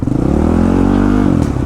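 A Honda CRF450RL dirt bike engine revs steadily under partial throttle, a loud, close, continuous motor drone with a rising and falling pitch across under two seconds, no voices.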